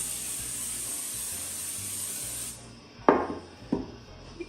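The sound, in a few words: cooking spray sprayed onto bread loaf pan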